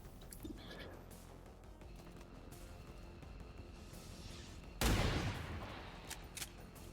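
A sudden loud burst of weapon fire in XCOM 2: Long War of the Chosen breaks over a quiet backdrop, trailing off over a couple of seconds, with a few smaller sharp sounds after.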